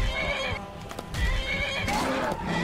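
A horse in the video game Skyrim whinnies loudly, then hooves clip-clop, followed by another neigh; close and clear with no talking.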